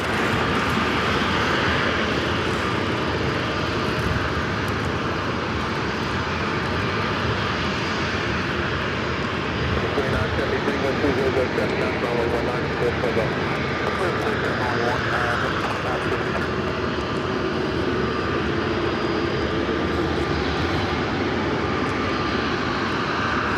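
Airliners lined up and taking off at LAX in strong wind, a loud continuous jet engine roar dominating throughout, with wind buffeting and occasional voices mixed in.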